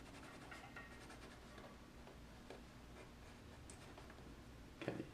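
A pencil held sideways shading a drawing, heard as faint soft scratching strokes repeating close to the paper in a quiet room, with a slightly sharper brush of graphite near the end.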